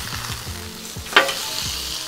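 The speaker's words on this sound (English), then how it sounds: "This griddle sounds unbelievable" Continuous close sizzling and crackling of a tomahawk steak frying on a hot griddle, with one sharper pop partway through.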